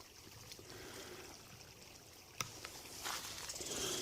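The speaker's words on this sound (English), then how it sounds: "So here's our creek here." Creek water trickles faintly and steadily outdoors, a soft continuous wash with one sharp click partway through and the flow growing slightly louder toward the end.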